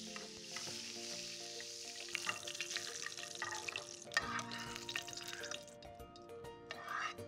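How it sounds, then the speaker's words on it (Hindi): Curry leaves sizzle in olive oil in a pan for a Jaffna-style curry, a steady crackling hiss with sharper bursts, heard under continuous background music. "Now in the same pan, olive oil. Let's get some curry leaves."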